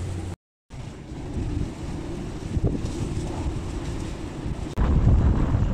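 Strong warm wind rushing over a sailboat at sea in about 30 knots over very shallow water, a loud steady roar with a brief dropout near the start and a gust swelling stronger toward the end.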